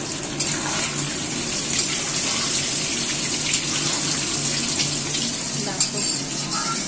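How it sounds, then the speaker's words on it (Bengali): Potatoes fry in hot oil in a home kitchen, a steady dense sizzle and crackle running continuously up close, with occasional soft clinks and faint voices in the background. "জাস্ট ভেজে নিচ্ছি সব আলু করবো বলে আলুগুলো।"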